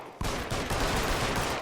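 Gunshots in the video game L.A. Noire, a sudden loud barrage of rapid overlapping shots that starts after a short quiet moment and keeps going without pause, no voices.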